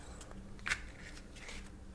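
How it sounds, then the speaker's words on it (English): Soft riffling and flicking of tarot cards being shuffled, close and quiet, with brief bursts of papery snaps and no talking. "I'm going to shuffle the cards a little bit more and start to pull."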